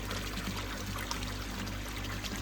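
Water from a return line pours steadily into a garden pond, a continuous close splashing trickle with no voices over it.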